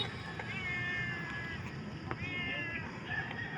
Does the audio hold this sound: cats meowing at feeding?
yes